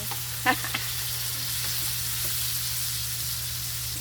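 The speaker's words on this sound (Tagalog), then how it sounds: "Lagay ko na itong tofu para magkalasa. Haluin muna natin." Tofu sisig frying in a pan gives a steady, close sizzle throughout, with a couple of brief stirring scrapes near the start and no talking.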